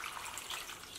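Water pours steadily into a pot of pig trotters seasoned with salt and light soy sauce, a close, continuous splashing rush with no voices.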